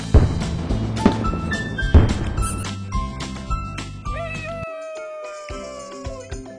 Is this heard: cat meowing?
yes